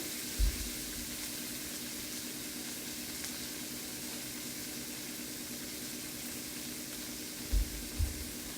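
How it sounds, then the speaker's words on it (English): Beet tops (greens and purple stems) tossed into a hot pan: a steady sizzling hiss runs throughout, with a few soft low thumps as the leaves land. "I'm just gonna toss them into the pan."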